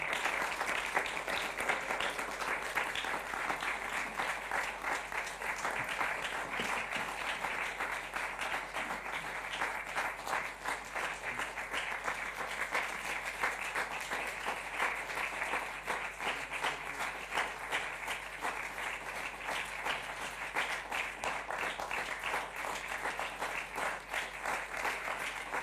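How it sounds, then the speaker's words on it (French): Sustained applause from an audience at a French literary talk, a dense wash of many hands clapping that stays steady and loud for the whole stretch with no speech. "mérite non pas un tonnerre mais une vague d'applaudissements"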